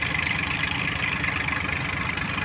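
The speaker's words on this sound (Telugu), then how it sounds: "ఇది సో మోటార్ సౌండ్ అయితే కంప్లీట్గా వస్తుంది అన్నమాట మీకు" Motor pump engines dewater the flooded HOD Towers site at Amaravati Capital, a steady, loud mechanical drone with a fast throbbing pulse and no talk.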